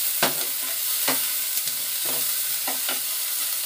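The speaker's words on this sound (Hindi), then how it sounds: "और चलाते हुए प्याज के साथ ही इसको भूनेंगे।" Onion with pounded ginger-garlic paste frying in a pan for a dhaba-style matar paneer, giving a steady close sizzle broken by several distinct spoon-stirring scrapes, with no talking.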